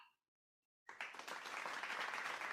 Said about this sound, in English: Editing Cypher, make sure that you put the applause right there.